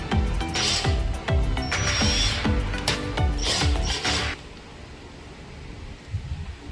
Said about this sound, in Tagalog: cordless electric drill para doon sa tornilyo